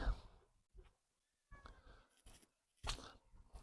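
A kitten newly taken in gives a couple of faint, short meows between soft rustles and shuffling sounds in a quiet setting, with pauses of near silence.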